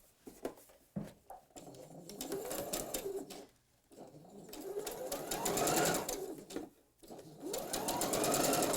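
A sewing machine stitches a quarter-inch seam on fabric for a reusable grocery bag. It runs in long steady whirring bursts with brief pauses between them, loud and close, while a pigeon coos in the background.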